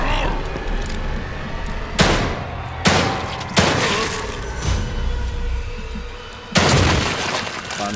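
Gunfire in The Evil Within 2 survival horror game: four sharp, loud shots cracking out at irregular intervals over a constant low ambient rumble.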